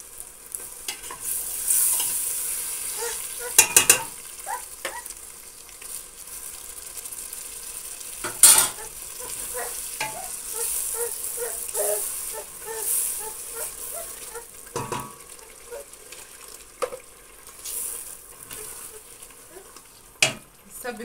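Tomato paste and rice fry in a pot for Egyptian-style rice, a soft continuous sizzle broken by scraping stirs and a few sharp clinks of a spoon against the metal, close and fairly quiet.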